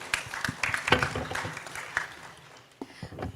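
Scattered, modest applause from a conference audience for the panelists at a plenary session, light claps thinning out quickly over a few seconds.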